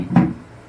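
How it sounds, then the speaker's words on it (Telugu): A Samsung washing machine door locks automatically with a single short, dull thunk, close and alone. "ఫస్ట్ మీరు మెషిన్ ఎప్పుడైతే స్టార్ట్ బటన్ వస్తారో ఫస్ట్ డోరే లాక్ అవుతుంది ఆటోమేటిక్."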